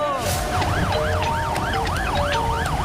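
A wailing ambulance siren rises and falls in a steady repeating sweep, loud and continuous over road noise on an emergency call for an injured man.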